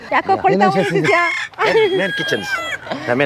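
Chickens for sale at a tribal market in Ethiopia, a close, loud rooster crow and clucking calls repeating over a few seconds, with voices mixed in.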